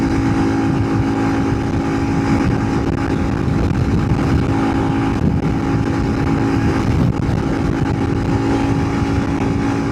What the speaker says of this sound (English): Going uphill right now. Bike is climbing.